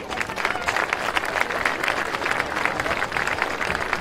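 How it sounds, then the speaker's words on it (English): A crowd at a high school football game at Lancer Field claps and cheers, a dense, loud burst of applause that holds steady throughout. "Let's have a round of applause for them"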